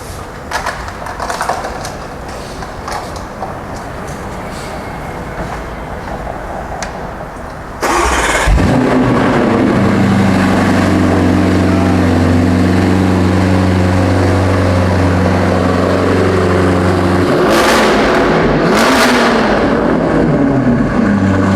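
A Mansory-modified exotic car with adjustable exhaust valves cranks and fires up, settling into a loud, deep idle, then blips into two sharp revs near the end. Faint background noise comes before the start.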